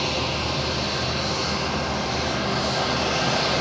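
Finnair airliner engines at Madeira Airport produce a loud, continuous jet roar that stays strong and steady from start to finish, with no voices.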